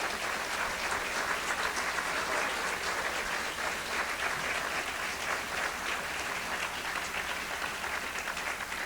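Audience at an awards event gives sustained applause, a dense even wash of many hands clapping at moderate distance, steady throughout with no clear individual claps.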